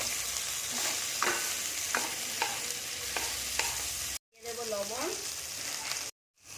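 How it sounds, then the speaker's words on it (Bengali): Chopped onion and eggplant fry together in oil, giving a steady sizzle broken by several clinks and scrapes of stirring, with short silent gaps. "পেঁয়াজটা আমি বেশি ভাজবো না এর মধ্যেই দিয়ে দেবো বেগুন একসাথে ভেজে নেবো"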